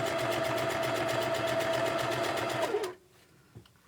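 A sewing machine runs steadily with a fast, even needle rhythm while fabric pieces are stitched together, then stops abruptly near the end, leaving quiet room tone and a faint knock.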